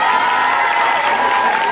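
A crowd at a cosplay parade applauds and cheers for a costumed participant, a loud, continuous roar of clapping and voices with a faint whistle-like tone threaded through it.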